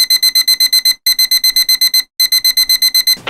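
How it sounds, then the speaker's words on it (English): An alarm clock rings in loud, rapid electronic beeps, rhythmic bursts of about eight pulses per group separated by brief pauses, shrill and close, with no voices. "suddenly it's morning and your alarm clock is just"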